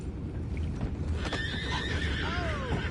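A horse in the video game Red Dead Redemption 2 whinnies once, a high wavering neigh over a low rumbling background with faint hoof clops nearby.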